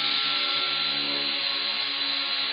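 Dotco pneumatic belt sander running on a small compressor, a steady, fairly quiet air-driven whir with a smooth hiss held evenly throughout, close by and alone.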